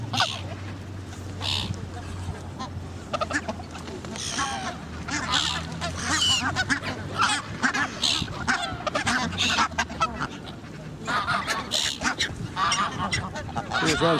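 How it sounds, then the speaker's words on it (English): A flock of geese honks repeatedly outdoors in winter, loud overlapping calls in irregular bursts mixed with other birds, with people talking nearby. "Love to know what sort of geese they are."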